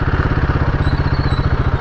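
A Royal Enfield Himalayan 450 motorcycle engine runs close up with a steady, rapid low thumping pulse, loud and alone with no talk.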